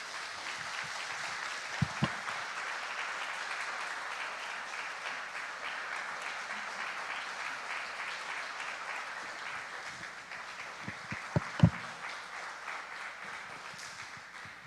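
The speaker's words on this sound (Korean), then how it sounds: "뜨거운 박수로 모시겠습니다." A church congregation breaks into sustained, even applause that fills the room, with a few louder claps standing out, continuing without talk.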